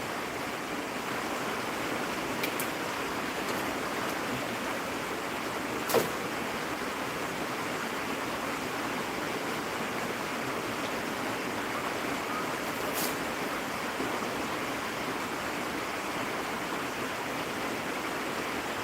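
Outdoor rain falls in a continuous soft hiss near a workshop, steady and moderately close, with a couple of brief faint clicks and no voices.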